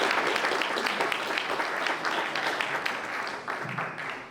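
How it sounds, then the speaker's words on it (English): Audience at a community coalition meeting applauding city officials, including a district city councilmember, with sustained clapping that gradually softens toward the end. "Can we applaud them for their service?"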